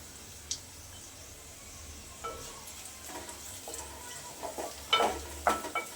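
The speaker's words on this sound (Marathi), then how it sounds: "लसूण छान परतून झाला की त्याच्यामध्ये घालायचं आपल्याला कढीपत्ता" Curry leaves drop into garlic already frying in a pan, set against a soft steady sizzle. Scattered crackles and spatters build into louder bursts toward the end, with occasional utensil scrapes nearby.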